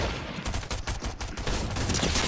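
A drum shotgun in the video game Fortnite fires a rapid series of sharp blasts close by. The even, repeating bursts come one after another for the whole stretch, with nearly no gap between them.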